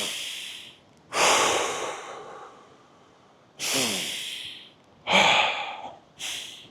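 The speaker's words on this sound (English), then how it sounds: "3 deep breaths." Slow, deep breaths taken one after another, each a long airy inhale or exhale with loud breathy rushes separated by short quiet pauses, close and alone with no talking.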